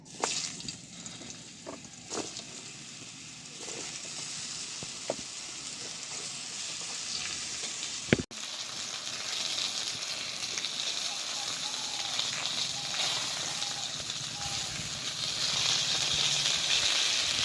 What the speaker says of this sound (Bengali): এইভাবে ঝিঙেগুলো ভেজে নিতে হবে।